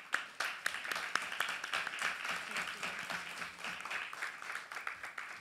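Indoor audience applause for a panel at an interfaith forum in Pune, India: dense, steady clapping with sharp individual claps standing out, sustained for several seconds without speech.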